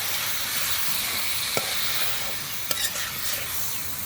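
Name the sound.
chicken meat frying and stirred in spice paste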